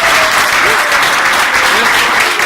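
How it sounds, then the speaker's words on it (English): Loud, sustained applause from a crowd for the actors at a Shakespeare Birthplace Trust poetry event, dense steady clapping with faint voices mixed in. "can we just have a round of applause for our actors?"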